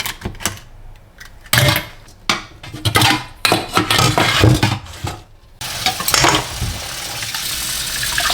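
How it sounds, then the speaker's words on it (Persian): Dirty dishes are washed by hand in a home kitchen, with bursts of running tap water alternating with clattering dishes and utensils, close and irregular, ending in a steady stream of water. "تا اون بخواد آماده بشه یه مقدار ظرفایی که کثیف شده رو جمع جور کنم بشورم."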